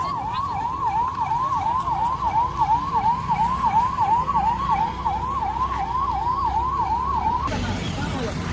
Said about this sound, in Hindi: काफ़ी देरों के बाद आया एम्बुलेंस।